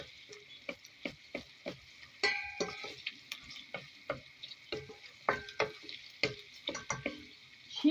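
Ingredients for red lentil soup sauté in a pot, with sharp, irregular spoon clicks and scrapes against the metal over a faint, steady sizzle, close and fairly quiet, with no voices.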